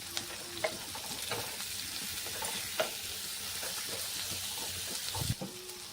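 Capsicum, onion and small chopped tomato fry in a pan for a potol vorta, giving a steady close sizzle with scattered scraping stirs and clinks of a spatula throughout, with no voices.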